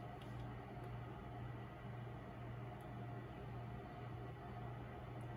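An oil extractor pump drawing engine oil out of an Audi A4 during a DIY oil change, giving a constant low motor hum with a steady broadband whir that holds evenly throughout, faint and unchanging.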